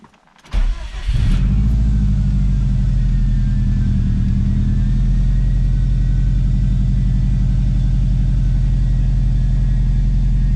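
A Subaru WRX engine cranks briefly, catches and settles into a loud, steady low idle rumble that continues to the end; the car has a mass airflow sensor fault.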